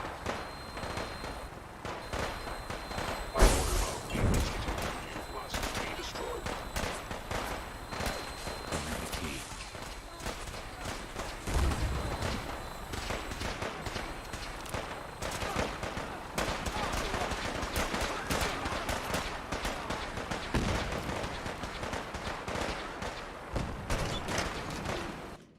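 Fallout 4 combat gunfire, rapid volleys of sharp shots and automatic bursts crackling steadily throughout, with a few louder close blasts standing out over the din of battle.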